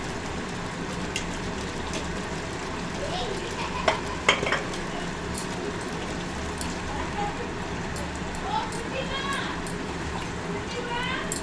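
Chicken with salt is stirred in a pan over high flame, producing a steady soft scraping and sizzle with a few sharper clinks, while a person talks over it.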